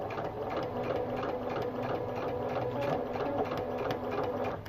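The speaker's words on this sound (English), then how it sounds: "go back to your regular stitch length and sew along just like you normally would on a regular seam" A sewing machine stitches a Y seam on quilt hexagons, a quiet, steady, even run of rapid needle clatter with a constant motor whir, heard alone with no talking.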